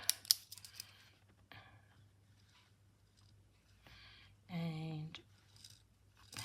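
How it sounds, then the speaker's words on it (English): Scissors cutting through a man's cotton shirt at close range, a few crisp snips and rustles of fabric, with a brief spoken word and some handling noise. "I'm just going to cut it."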